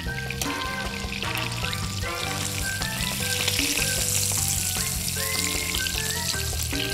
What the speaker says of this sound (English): Season your filet on both sides and sear that on hot butter.